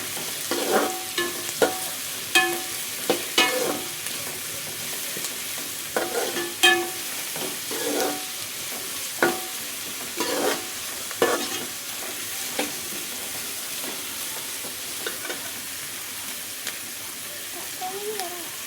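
Curry leaves sizzle and crackle in a pan while a spoon scrapes and taps through them at irregular intervals, with faint voices in the background.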